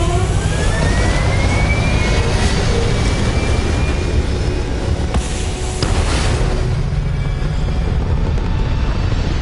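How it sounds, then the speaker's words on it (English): Spaceship thrusters fire in Starfield as a loud, continuous roaring rush with a rising whine layered on top, steady throughout. "thrusters firing"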